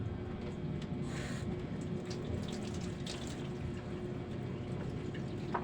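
Steady running water from a faucet into a sink while dishes are washed, a constant close splashing wash with faint clinks and drips on top.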